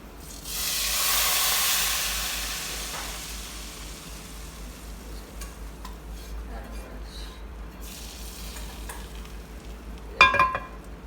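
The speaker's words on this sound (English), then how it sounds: "I'm going to be adding the tarka into this." Hot tarka poured into a pot of dhaba-style dal sizzles in a loud hissing burst that fades into quieter stirring, with a sharp metal clink near the end.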